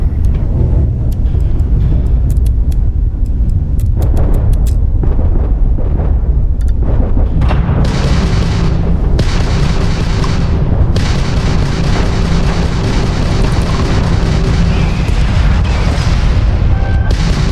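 Spaceship weapons fire in the video game Starfield during an orbital battle: a steady run of heavy booming blasts and rumbling impacts over a loud, dense engine roar that continues throughout.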